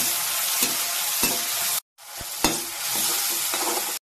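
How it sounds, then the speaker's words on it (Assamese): Ginger, garlic and onion fry in hot oil for a chicken curry, a steady loud sizzle with scraping stirring strokes, briefly cutting out midway before resuming. "মই দিলো অলপ আদা নহৰু পিয়াজ কিনি ভালকে ফ্ৰাই কৰি লম"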